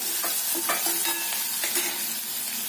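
Curry leaves and coriander sautéing in a pan for horse gram flour pithale, a steady close sizzle broken by several short spatula scrapes and stirring knocks.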